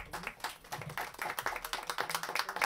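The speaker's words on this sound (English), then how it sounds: "can I have a big round of applause for Ellen." Audience applause at an urban development community-building event, brisk dense clapping at moderate volume throughout, with no talk.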